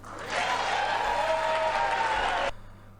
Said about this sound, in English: To get up and applaud, standing ovation?